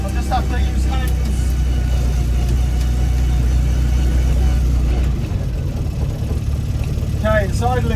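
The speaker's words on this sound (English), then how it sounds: "Okay, it's idling good." A Mini's engine idles steadily at close range with a deep, continuous low rumble throughout, while people talk over it.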